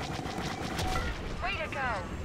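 Starfighter weapons firing in a Star Wars Battlefront space battle, a dense, continuous roar of blaster fire and engine noise with a radio voice speaking over it.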